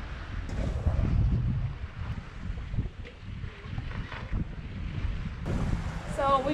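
A newly owned sailboat running downwind at around 5 to 6.5 knots with the wind on the aft quarter, steady wind buffeting and water rushing past the hull, a near, continuous roar without talk.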